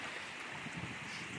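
Fast-flowing stream water near a waterfall at a protected trout nursery gives a steady broadband rush, fairly close and continuous, with no talk over it.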